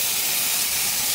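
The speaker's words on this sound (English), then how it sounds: "You want to hear that sizzle sound." Steady, dense sizzling hiss of steaks on a very hot grill fills the whole moment, loud and close, with no voices.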